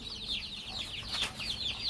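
Small chickens and chicks on a farm in Savannakhet, Laos, keep up a steady, close run of high clucks and peeps with no talk.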